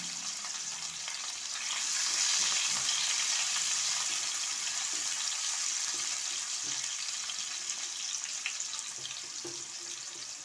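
Two chopped onions frying in hot oil over tempered spices in a pan, a steady hissing sizzle that swells slightly partway through and stays even, with no talking.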